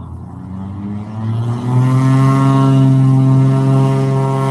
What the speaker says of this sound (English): Got Rod Hansen now in a 1964 Cessna 185